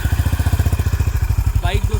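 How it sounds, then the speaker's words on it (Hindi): A Honda Highness CB350 motorcycle started with a single crank, then idling on its double stand in neutral, a steady close thumping engine pulse. A brief faint voice-like chirp comes near the end. "बाइक दोस्तों एक क्रैंक में स्टार्ट होनी चाहिए"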